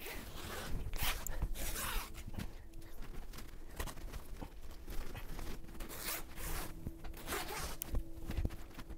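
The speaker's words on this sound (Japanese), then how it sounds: "このニューコアラマットレスは、マットレスの上にチャックがついていて、" A zipper on the top of a Koala mattress cover is drawn open in repeated rasping pulls, close and clear, with short pauses between strokes and no talking.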